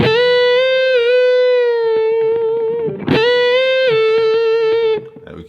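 Electric guitar with light distortion playing sustained bent notes that are released back down to pitch, two long held tones with audible pitch dips, a pick scrape between them, close and loud with no talking.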